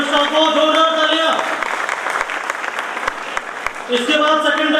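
Audience applause rolls through an Ambedkar Jayanti award ceremony as a gold medal is presented, a dense, loud wash of clapping with musical tones at the start and end and a voice over it.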